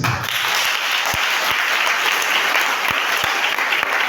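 A church congregation applauds and cheers the Lord, steady dense clapping filling the space throughout with a few sharper claps standing out, no speech over it.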